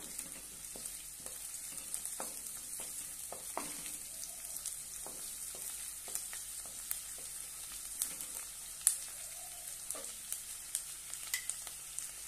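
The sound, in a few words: green chilies and curry leaves sautéing in a pan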